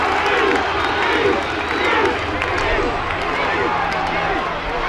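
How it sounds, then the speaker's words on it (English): Laois supporters chant at the 2003 All-Ireland Minor Football Final replay against Dublin, a dense, steady crowd roar filling the stadium while a commentator talks over it throughout. "Laois, the chant."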